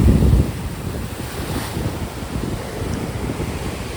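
Surf rolls in at the beach beside Ganpatipule temple during the monsoon, a continuous washing roar, overlaid by heavy wind buffeting that is loudest at the very start.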